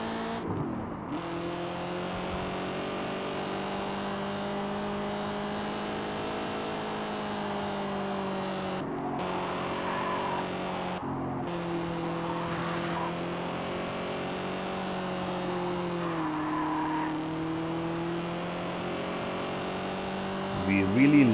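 A Corvette Stingray race car lapping a circuit in the Gear Club racing game: a steady, droning engine note that dips and rises through a narrow corner, with a few brief breaks and someone talking over it.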